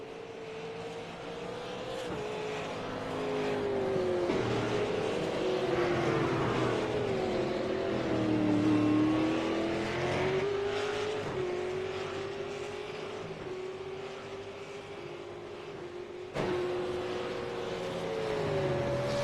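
Race cars circle a track during a broadcast, engines whining and shifting pitch as they pass, steady and moderately distant over the full span, with no talk heard.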